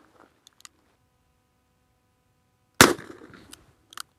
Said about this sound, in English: We're gonna shoot it single action because right away, we're gonna test for accuracy.